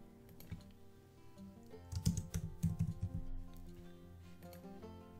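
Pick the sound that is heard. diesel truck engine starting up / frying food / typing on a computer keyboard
typing on a computer keyboard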